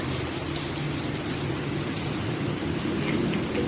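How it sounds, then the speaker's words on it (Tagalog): Steady rain falls continuously outdoors, a dense even hiss close by with no voices over it. "Ito ay yung ulan."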